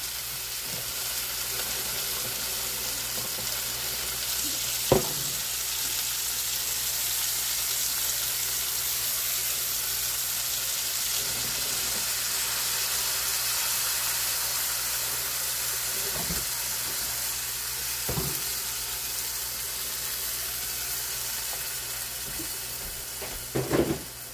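Rinsed seasonings and liquid hit a hot pot for pork stew, giving a steady, loud hiss and sizzle that holds for the whole stretch, with a few faint clinks of a utensil against the pot.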